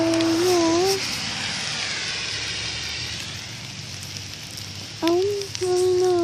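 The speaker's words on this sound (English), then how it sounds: "I'm outside, and it's raining" Steady broadband patter of rain falling outdoors fills the whole stretch, close and continuous, with a person's voice heard at the start and again near the end.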